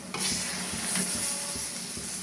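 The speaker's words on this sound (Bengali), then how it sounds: "খুলে আমি এখন এই যে বটিটা পোড়া লাল হয়ে গেছে, আমি এটা দিয়ে দেবো" A red-hot boti blade plunged into a pot of cooking taro gives a sharp, steady sizzle and hiss, loud and close, with no talking.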